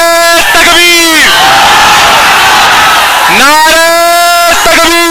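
A large crowd at a political rally roars a loud, drawn-out chant in unison in answer to a leader's call, two strong swells of massed voices with a quieter stretch between them.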